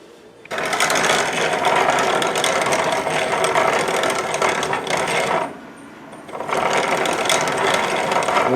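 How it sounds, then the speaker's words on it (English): Dried rosemary whirs in a small electric grinder in two loud, steady buzzing runs, the motor cutting out briefly for about a second before starting up again at full strength. "I'm grinding rosemary. I got the rosemary that I dried and I'm putting it in the grinder."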